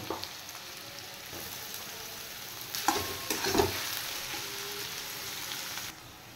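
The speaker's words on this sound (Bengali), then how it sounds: "এবার আমি কুচিয়ে রাখা পেঁয়াজগুলো ভেজে নেব।" Chopped onions, garlic and ginger frying in oil for chicken pulao, a soft steady sizzle with stirring scrapes and a brief louder burst of spatter midway.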